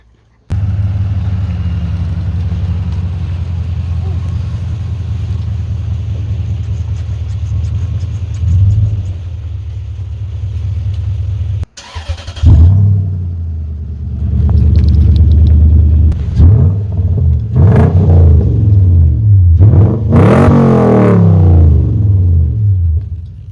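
Toyota Tundra pickup truck being fitted with a louder muffler in a shop: a steady deep exhaust rumble at idle, then after a brief cut it restarts into a series of sharp throttle revs rising and falling, loud and close.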